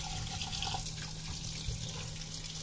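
A pork leg being washed under a running kitchen tap before pressure cooking, a steady close stream of water splashing with small drips and handling sounds, no talk.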